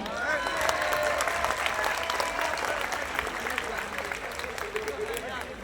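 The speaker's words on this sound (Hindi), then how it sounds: "नरेश भाई के लिए तालियां बनती नहीं बनती?" An audience bursts into clapping for Naresh at a company launch event in Udaipur, a loud, dense round of applause mixed with crowd murmur and some voices underneath, tapering slightly toward the end.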